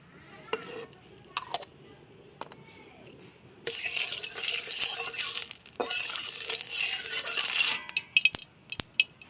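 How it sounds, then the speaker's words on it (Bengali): Mustard oil poured into a wok: a few faint clinks and taps, then a loud, steady hissing rush lasting about four seconds, fading into scattered sharp clicks. "কড়াইতে দিচ্ছি সর্ষের তেল"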